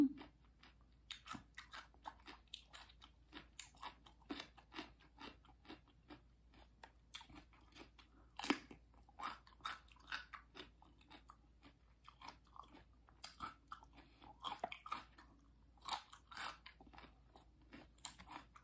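Crisp cucumber is bitten and chewed close to the microphone, with repeated sharp crunches in irregular bursts over a quiet background and no talking.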